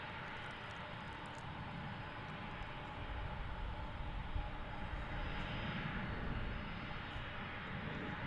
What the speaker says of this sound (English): Colin, I am keeping an eye on that MD-11. It just got pushed back.